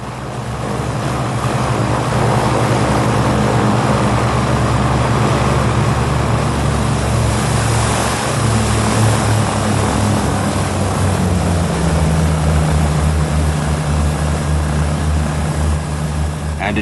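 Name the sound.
propeller aircraft engines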